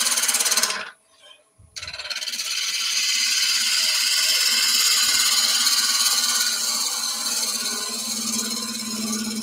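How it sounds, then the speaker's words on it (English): A bowl gouge skims a spinning wood workpiece on a lathe, making a steady loud hissing cut that drops out briefly near the start, then runs continuously. "we're just going to skim. I'm going to use the bottom of my bowl gouge like a skew chisel."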